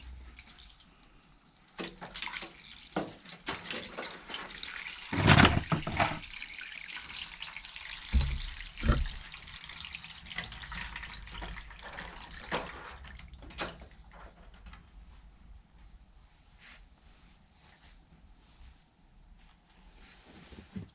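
Water drains from the filter trap of a GE Steam Duo washer-dryer combo into a bucket, making a continuous splashing trickle with irregular louder gushes and drips that slowly taper off.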